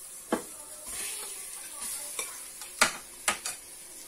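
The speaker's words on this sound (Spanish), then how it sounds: "Pues empiezo por sofreír primero un poquito la carne." Meat sizzling in hot oil inside a GM G Deluxe cooker: a steady, close hiss broken by a few sharp clinks and scrapes from stirring.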